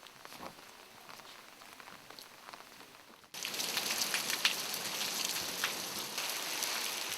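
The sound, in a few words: rain shower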